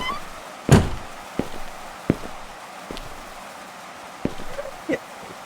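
A door in the horror video game Hapunan closes with a solid thunk, followed by several softer knocks and clicks over a quiet ambient hiss.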